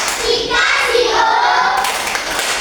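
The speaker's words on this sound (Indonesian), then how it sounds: "Kita tepuk wow untuk Yardi." Schoolchildren in a third-grade classroom clap together in a 'tepuk wow' cheer for a classmate named Yardi, a dense, close burst of hand claps with young voices chanting along throughout.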